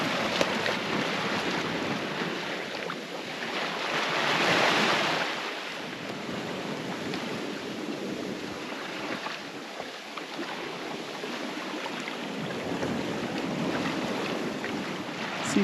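Ocean waves rush and wash around a sailboat on an offshore downwind run between Tenerife and Cape Verde, with steady wind buffeting and a swelling surge midway, continuous and fairly loud with no talking.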